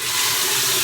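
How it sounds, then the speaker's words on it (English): Water runs and splashes close by at a sink as a face is wetted during a razor shave, a brief steady hiss-like rush with no voices. "And then you can"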